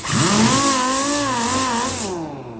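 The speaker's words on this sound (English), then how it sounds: "Got the Billy sander with 80 on it." Power sander fitted with 80-grit paper stripping paint from a car body panel, a steady loud whirring drone with a wavering pitch that runs for about two seconds, then spins down and stops.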